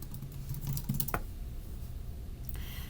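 Login credentials are typed on a computer keyboard in a quick burst of close, crisp key clicks, then a pause and a few more taps.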